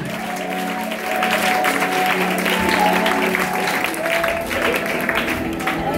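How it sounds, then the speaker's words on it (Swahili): A church congregation breaks into sustained applause after a brief quiet start, loud steady clapping filling the room, with a voice speaking faintly over it. "Hebu pigia Yesu makofi"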